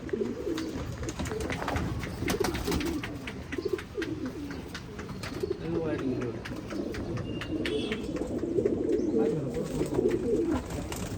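Steady pigeon cooing fills the whole stretch, several birds' low throaty calls overlapping continuously, with a voice talking faintly underneath.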